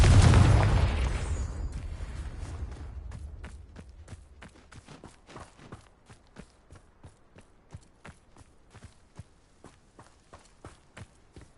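A Confringo explosion spell in the video game Hogwarts Legacy bursts loudly and close at the start and rumbles away over a few seconds, followed by a steady run of crisp footsteps.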